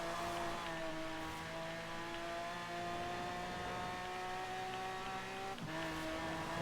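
Car engine droning at a steady, high pitch in the racing game Forza Horizon 4, with a brief tire squeal near the end and no talk.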